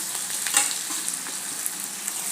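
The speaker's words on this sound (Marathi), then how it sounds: "आणि बारीक गॅसवरती थोडं परतून घ्यायचं याला" Spice masala sautés in oil with popped mustard seeds on a low flame, a steady close sizzle with small crackles and one brief scrape of a spoon, no voices.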